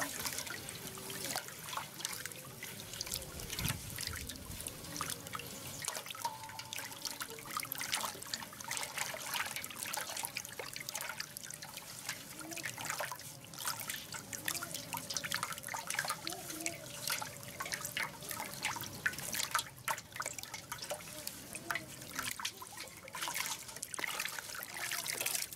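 Water and urea are stirred together by hand for straw treatment, making a steady, close trickling and sloshing that runs without a break, with faint scraping throughout.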